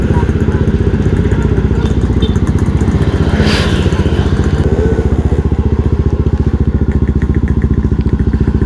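Yamaha Aerox scooters on a long group touring ride from Bandung to southern Garut, their engines droning loudly and steadily throughout with wind rumble, up close.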